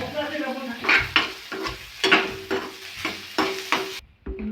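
Carrots and tomatoes fry in a pan with salt for vegetable Maggi, a crackling sizzle broken by repeated stirring scrapes and a spoon knocking the pan, close up, ending with a short pause.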